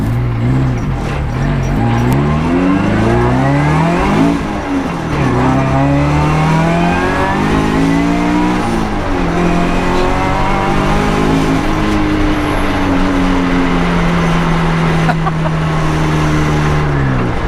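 A Scion FRS with freshly replaced coil packs accelerates hard from inside the cabin, its engine revving up through several gear changes with rising and falling loud, smooth pitch sweeps and no talking.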